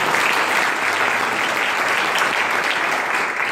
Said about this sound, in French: je vous propose d'applaudir toute l'équipe de Wild Forest School.